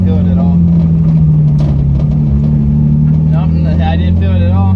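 A BMW E36 325i with a welded differential holds a loud, steady engine drone through a turn in first gear, with brief tire chirps toward the end and someone talking over it.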